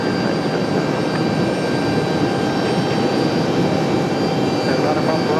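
A Boeing 757 jet on the runway at Raleigh-Durham International, heading for runway 23 left, gives a steady, loud broadband engine roar that holds level throughout, with a faint high whine on top.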